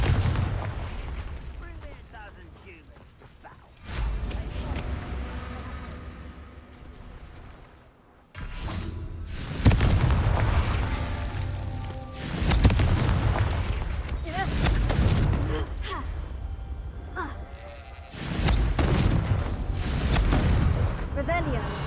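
Confringo explosion spells in the Hogwarts Legacy video game, a series of heavy booming blasts with sharp onsets recurring every few seconds among constant game noise, with a voice talking over them.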